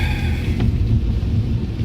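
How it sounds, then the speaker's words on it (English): A loud, steady rumble of thunder rolls under a dense wash of falling rain, close and continuous throughout. "It's raining today."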